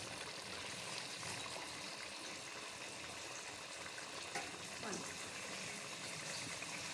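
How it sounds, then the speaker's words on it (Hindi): Water pours steadily into a cooking pot of vegetable kofta curry on the stove, a continuous soft rushing and trickling sound that stays even and fairly quiet throughout. "ये पानी डाल दिया"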